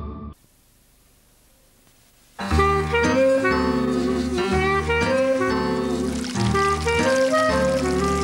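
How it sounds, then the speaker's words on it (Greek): A tap runs with a steady pouring rush of water that starts abruptly after a quiet opening and continues loud and unbroken to the end, with a tonal layer running alongside it. "Αν αφήνετε το νερό να τρέχει, σαν να μην τρέχει τίποτα, σύντομα δεν θα τρέχει τίποτα."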